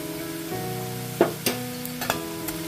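Rice and a spoonful of ginger paste frying in a pan, a steady low sizzle with a few sharp stirring clicks against the pan, close and alone with no talk.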